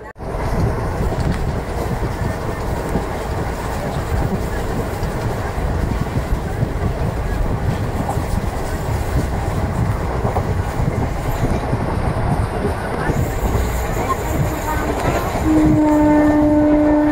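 Passenger train 17231 rolling into Kaikaluru station on the main line, a steady close rumble of wheels and carriages, with a sustained horn-like tone emerging near the end.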